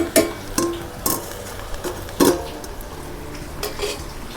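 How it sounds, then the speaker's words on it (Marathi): A metal lid clatters onto a cooking pot of simmering wild leafy greens, in a few sharp clanks and knocks spread over several seconds, with softer utensil taps in between and no talking. "तर आता मी ना झाकण ठेवून देते"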